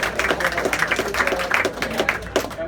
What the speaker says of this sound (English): You can applaud that if you want.